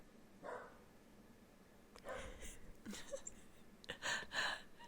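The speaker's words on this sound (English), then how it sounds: "we just heard Jessica's little weenie dog bark in the background" A small dachshund barks a few faint, distant yaps in the background of a quiet indoor room.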